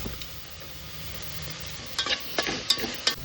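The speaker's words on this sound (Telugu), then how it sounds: "దాంట్లోనే బీరకాయ పొట్టును కూడా వేసి మంచిగా వేగనీయాలి" Ridge gourd peel frying in oil in a pan, a low steady sizzle broken by several sharp scraping stirs near the end.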